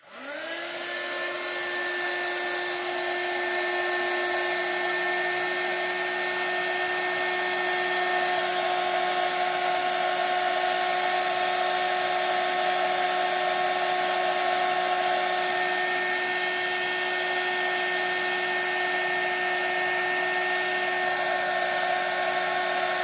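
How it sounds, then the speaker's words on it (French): A heat gun blows continuously for over twenty seconds, a steady close whine with a rising tonal hum as it spins up, used to heat and melt a card-making craft embellishment. "Et je viens chauffer avec mon heat gun."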